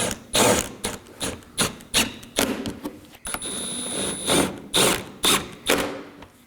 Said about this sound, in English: Now I'm going to go ahead and snug down my 10mm bolt. And now my 2 8mm bolts.